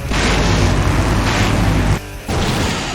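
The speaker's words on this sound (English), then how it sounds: "Now that's an explosion, ladies and gentlemen." A loud, sustained explosion from the video game Full Throttle, a continuous heavy boom and roar that drops out briefly near the end before the rumble returns.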